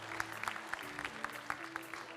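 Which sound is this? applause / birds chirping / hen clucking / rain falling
applause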